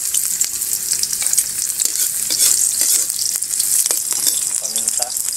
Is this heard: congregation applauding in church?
no